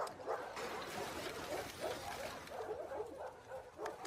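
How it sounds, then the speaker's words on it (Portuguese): A dog barks and yips in The Last of Us Part II, set in a Seattle stadium. The short, playful barks repeat over a few seconds against steady game ambience. "Eu adoro essa cadela."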